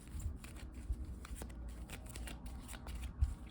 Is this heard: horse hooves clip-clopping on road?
no